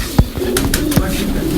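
Kasuri pigeon giving soft, low cooing over a steady background hum, with a few sharp knocks or flaps and some faint bird calls nearby.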